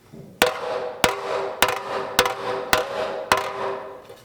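A hammer dents the oil pan of a Buick LeSabre V8 in six sharp, evenly spaced metallic strikes, each one ringing briefly, close and loud.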